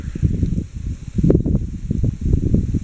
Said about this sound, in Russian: Но ветер такой сильный, что капец.